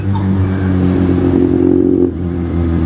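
Kawasaki Z800 motorcycle engine revving loudly up close, a deep steady growl that swells briefly then eases back to a rumbling idle.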